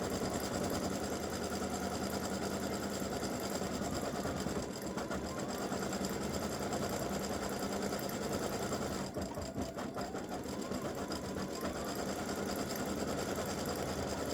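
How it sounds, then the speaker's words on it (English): An embroidery sewing machine stitches the bow section of a freestanding lace gift tag, running in a steady, close, continuous mechanical whir with fast rhythmic needle chatter and no pauses. "so it's stitching the bow, the actual bow part for the gift tag"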